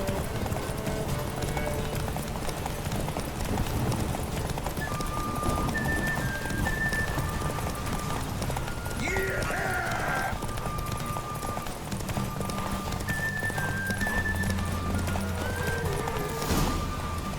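In The Witcher 3 video game, steady rhythmic hoofbeats of a galloping horse in a race drum on continuously, with brief musical tones and a short whinny-like sound partway through.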